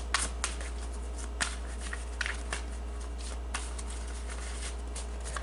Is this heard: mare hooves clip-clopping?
no